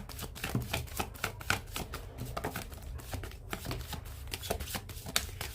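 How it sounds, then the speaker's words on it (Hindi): Tarot cards shuffled by hand give a dense, steady run of crisp riffling flicks and slaps, close and continuous, with no voice over them. "one more and last shuffle angels"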